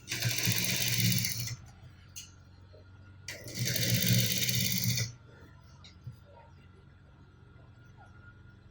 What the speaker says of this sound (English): so I'm just going to run a straight stitch for this